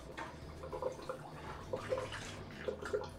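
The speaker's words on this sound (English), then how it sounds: "Alright, start the return pump back up." Water gurgles and trickles as a reef aquarium return pump starts back up, a faint, steady flow with small intermittent drips and splashes.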